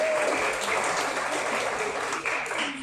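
Steady, dense clapping from an audience at a school alumni virtual meetup, continuous and fairly loud throughout the short stretch.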